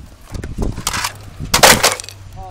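An HD monitor is smashed outdoors in the sun: two loud, close bursts of cracking and shattering glass with splintering debris, separated by a brief pause, and no talking.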